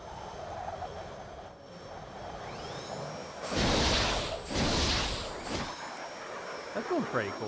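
Airplane-like engine roar of a flying dragon mount in the online game Free Realms, swelling into two loud whooshing passes midway, then fading, with faint game tones around it.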